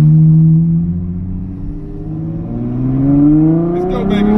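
A straight-piped Ferrari F12 pulling away from a stoplight, loud close exhaust roar climbing in pitch through the gears with a brief dip between shifts, heard from inside the car.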